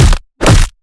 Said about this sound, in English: So the whoosh, the punch, and the bone break.